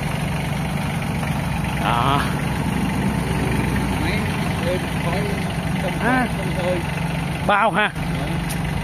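A Kubota tractor engine idles steadily in a machinery yard, a smooth low continuous rumble running throughout while people talk briefly over it.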